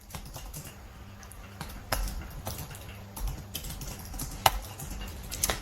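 Someone types a message on a computer keyboard, with quick, soft, close key taps in irregular bursts and a few louder keystrokes, in a quiet room with no talk.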